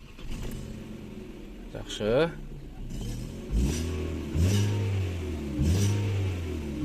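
A 2016 Kia Rio with a 1.6 engine, automatic gearbox and no catalytic converter cranks briefly and fires up, then revs three times in short loud bursts over a steady idle, with people talking nearby.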